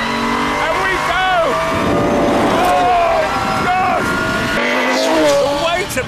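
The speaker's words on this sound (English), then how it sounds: "This right foot of mine is now connected directly to that 6-litre V12 engine. So when I press it, the wire pulls it, and we go." Pagani Zonda R with a 6-litre V12 accelerating hard, loud and close, its howling revs climbing, dropping at shifts and climbing again.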